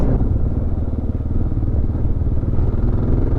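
A 2022 Kawasaki KLR 650 adventure motorcycle rides off road, its single-cylinder engine droning steadily and close with a low, pulsing rumble and some rattling clatter, loud and continuous throughout.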